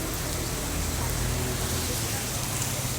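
Rain falling in Virar West gives a continuous, even hiss of steady rainfall, loud and unbroken throughout, with no distinct voices.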